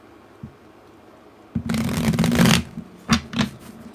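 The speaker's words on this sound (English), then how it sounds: "didn't want me to shuffle them damn cards." Stiff plastic tarot cards are shuffled near and alone, a dense riffling burst of about a second followed by two short flutters and taps.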